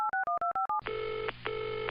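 A telephone keypad tapped six times in quick even beeps, followed by two long ringback tones, used as the phone call effect in a school stage play.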